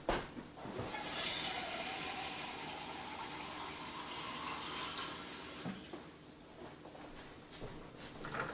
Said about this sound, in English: I'm just going to add a little bit of water to each one